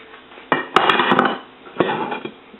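Sliced carrots tipped into a soup pot for homemade chicken noodle soup, a few quick clattering knocks of the pieces and utensil against metal, close and brief.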